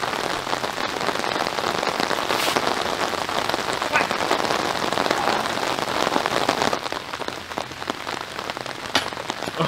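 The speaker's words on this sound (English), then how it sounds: "the rain is pouring" Heavy rain pours steadily on a disc golf course, a dense, continuous patter of drops on surfaces with a few louder hits, no talking heard.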